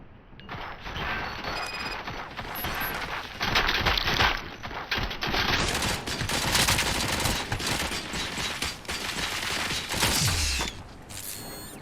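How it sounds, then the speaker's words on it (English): Heavy gunfire in the video game Robocop: Rogue City, with dense, sustained bursts of automatic fire and mechanical clatter that stay loud for about twelve seconds. No one speaks. "Fire at will."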